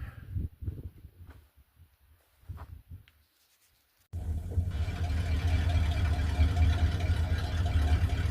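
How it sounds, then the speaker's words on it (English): A Ford Fairlane rescued from a scrapyard starts up and settles into a steady, loud idle that runs unbroken through the second half, after a quieter stretch of faint handling noises. "I'm going to go ahead and fire this thing up and let it warm up a bit"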